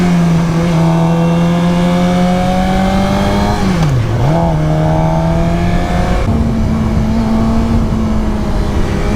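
A Suzuki GSX-R 600 sport bike engine roars loudly and steadily close by, its pitch holding, dipping briefly in a quick downshift around the middle, then settling at a slightly higher drone, with no talking.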